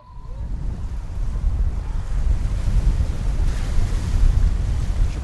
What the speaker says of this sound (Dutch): Hoge golven, hè? Ja, hele hoge golven.